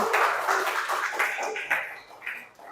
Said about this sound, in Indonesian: beri tepuk tangan untuk kelompoknya Mbak Sandra